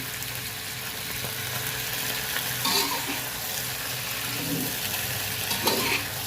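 Cabbage stir-fried in a wok with oyster sauce over high heat, a steady loud sizzle with the scrape and clatter of stirring, no talking.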